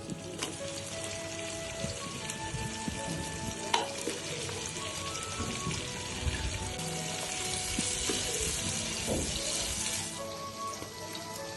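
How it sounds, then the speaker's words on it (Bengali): Sliced onions fry in oil in a frying pan for kacchi biryani, giving a steady, close sizzle and crackle with occasional stirring clicks and no talking. "কেটে রাখা পেঁয়াজগুলো প্রথমে ভেজে নিতে হবে।"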